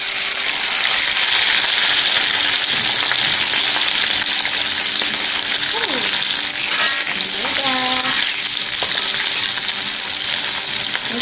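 Roughly chopped tempeh and eggplant frying in plenty of hot oil in a pan, a constant loud sizzle with occasional crackles and spatters, faint voices behind it.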